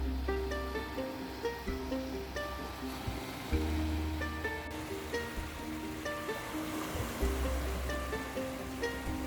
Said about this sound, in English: The sound of the waves relaxes the mind and body.